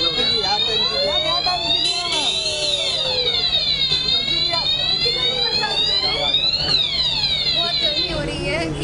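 A loud electronic alarm sounds continuously with sweeping, rising and falling tones, while people talk underneath it.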